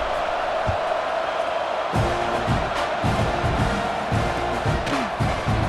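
Stadium crowd noise in EA Sports College Football 26, a dense roar of fans that swells after a few seconds, with scattered shouts and thumps layered over the continuous murmur.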